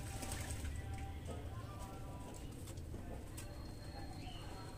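Highflyer pigeons coo softly in a steady low murmur, faint and continuous, with occasional light chirps and rustles around them.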